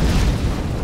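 A firecracker going off in the zombie survival game State of Decay, a single short, loud, close bang with a deep rumbling tail that fades within a second.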